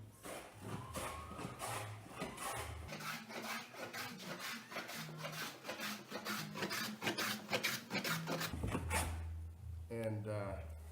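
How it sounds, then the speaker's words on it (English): A fore plane is pushed diagonally across a wooden board in a heritage woodworking setting, making a rapid series of rasping, shaving strokes in a steady rhythm, close and clear, with a low hum underneath. "to start with working across the board, you just go diagonally with the foreplane"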